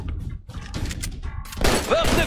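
Covering gunfire in the video game Army of Two: The Devil's Cartel: short bursts of rapid shots, quieter at first, then a louder, denser volley near the end.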